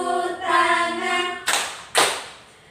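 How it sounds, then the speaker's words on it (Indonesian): A group of people doing a stretching exercise clap their hands together twice in sharp, close bursts after a sustained tone, the two claps about half a second apart. "bertepuk tangan"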